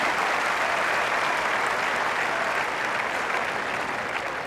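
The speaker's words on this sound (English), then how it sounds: "deserving of this round of applause" Spectators at a Monte Carlo tennis semifinal between Hrbaty and Gaudio applaud in a dense, steady patter of clapping that holds at an even level throughout, with faint crowd murmur beneath.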